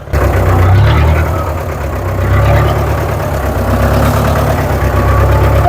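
A tractor engine idles loudly and steadily close by, a continuous low rumble with a slight uneven throb and no speech.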